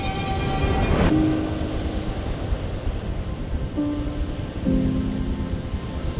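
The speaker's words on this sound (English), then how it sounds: "You can see how wild is the waves." Storm-driven ocean waves crash onto a beach in strong wind, a continuous loud, rushing roar that swells and surges throughout with no pauses.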